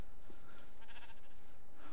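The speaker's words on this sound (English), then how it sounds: "Cows!" Cows mooing in the video game Minecraft survival mode, a short run of nasal, bleating calls repeating over a steady background, with no speech.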